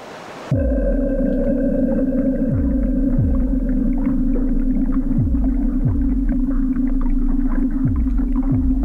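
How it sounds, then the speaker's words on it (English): Drowning sound effect in the video game Omori: a steady underwater drone with low rumbling swells that dip and recur every second or so, sustained and loud throughout with no talking. "It's the sound of me drowning."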